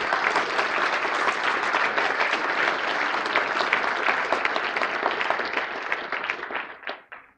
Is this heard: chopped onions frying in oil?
no